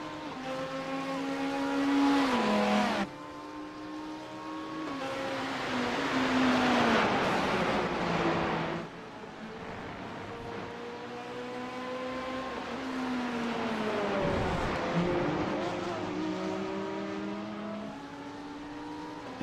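GT3 race cars, a Corvette and a Porsche, roar around Brands Hatch circuit, engines rising and falling through gear changes as they pass in a long loud sequence, with no voices.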